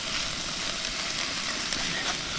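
Chicken sizzling in a camping pan at a lakeside wild camp, a dense, steady crackling hiss heard close and continuous without talking.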